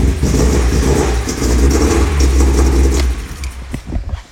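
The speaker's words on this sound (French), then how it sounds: "Il manque un cylindre et en plus, ouais, il n'y a pas de compression là." VW Golf GTI 1.8 16v with new camshafts runs rough and uneven at close range on three cylinders with low compression, then drops off toward the end.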